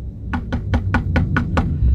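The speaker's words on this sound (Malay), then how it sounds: "Saya ketuk pintu tandas sebelah." Knocking on a toilet door, seven evenly spaced sharp raps in a steady rhythm, close and clear over a low background hum, with no voices.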